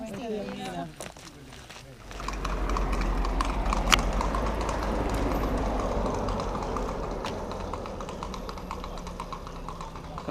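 A horse named Trixie clip-clops along a Camino de Santiago path in Spain, steady hoofbeats passing close by for several seconds, with voices talking before and over it.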